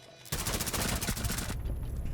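Gunfire in a first-person shooter game: a dense, rapid burst of loud shots that lasts about a second before cutting to quieter background noise.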